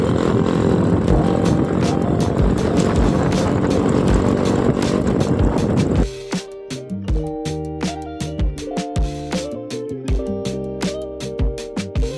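A vehicle's silencer exhaust roars loud and continuous at first, then cuts off into sharp, rhythmic pops and bursts.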